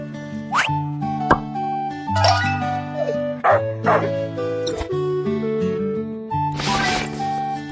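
Several short high-pitched yips and barks from a small cartoon puppy, mixed with cartoonish plops and musical tones.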